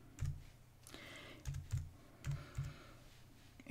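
Several crisp keystrokes on a Mac computer keyboard come in short, uneven bursts, close and fairly quiet, with no voice during them.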